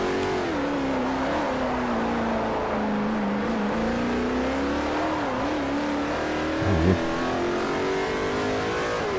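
Koenigsegg supercar engine in the racing game Forza Motorsport 4, a loud continuous revving drone with rising and falling pitch sweeps as the car accelerates and shifts, steady throughout with a brief tire-like burst near the end.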